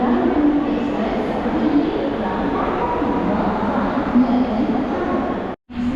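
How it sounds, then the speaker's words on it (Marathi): A train rolls into a station on a route toward Velankanni, a loud, continuous rumble of wheels and carriages filling the whole stretch, with a brief cut near the end. "आता आपली ट्रेन आलेली आहे"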